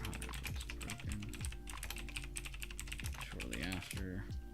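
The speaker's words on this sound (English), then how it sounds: "sorry for the typing" Rapid clicking of a computer keyboard during live market charting, with a steady stream of quiet keystrokes under a man's speech.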